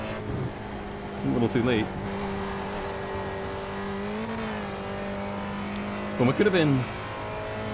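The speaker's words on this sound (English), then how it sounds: "Once again, the car has just sprung to life at the end." A race car engine in the iRacing sim hums steadily with a couple of rising revs and gear-shift sweeps, heard beneath a commentator's talk.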